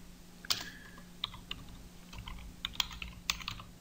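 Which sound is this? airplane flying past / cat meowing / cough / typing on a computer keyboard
typing on a computer keyboard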